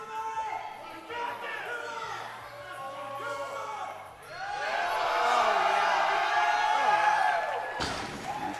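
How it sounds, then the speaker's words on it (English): A crowd at a powerlifting meet cheers and whoops as a lifter attempts a deadlift, the shouting building into a loud, sustained roar in the second half, with an announcer talking over it. "Crowd wants to see it."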